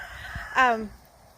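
A single short cluck or squawk from a rooster, close by, with a little background noise before and after.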